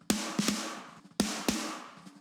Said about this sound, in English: now we have a snare drum that sounds like this